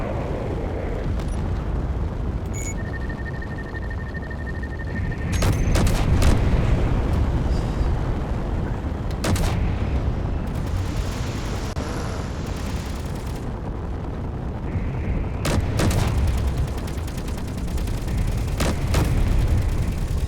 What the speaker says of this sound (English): Whoa, that's a big gun.